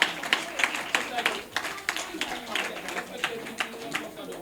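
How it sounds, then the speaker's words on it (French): Applause rings out for a CM2 pupil at a school charity day: steady, moderately distant clapping from a crowd in an open setting, with sharp individual claps standing out. "Applaudissez Fatou Bintou Diop."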